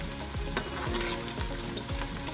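Medium-size onion frying in a pan for matar pulao, a loud steady sizzle with repeated scraping stirs at a regular pace, close up with no talking.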